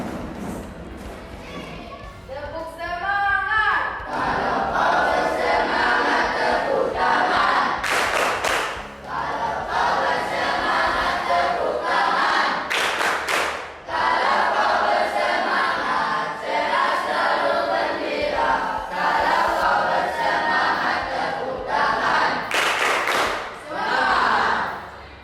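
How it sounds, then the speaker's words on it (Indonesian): Students in a classroom chant a cheer in unison and clap along, with loud rhythmic claps and group voices running throughout, punctuated by sharper bursts of clapping. "sekarang kita akan membuat dulu yel-yel ya. Yel-yel supaya kita lebih bersemangat"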